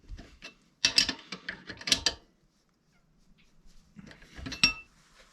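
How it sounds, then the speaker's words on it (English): Wrench work on the clamp bolts of a Warco 240B lathe headstock: close metallic clicks and ratcheting bursts, a pause, then another short run of clicking. "Now I'm going to tighten up the bolts which clamp the headstock end of the lathe down"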